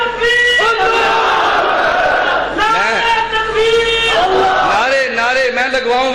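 At a religious gathering, a crowd chants slogans in loud, massed voices that rise in repeated shouted calls and fall back again, close and energetic.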